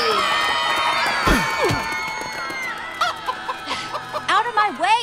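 Chickens in Minecraft Story Mode cluck and squawk in a quick series of sharp calls, growing busier toward the end, layered over a swelling musical or crowd-like background.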